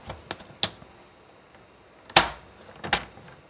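Paper trimmer slicing a sheet of paper, a few sharp clacks and quick cutting swipes spaced apart, with one louder slide-and-snap midway, close and otherwise quiet.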